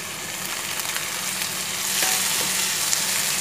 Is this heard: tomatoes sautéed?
yes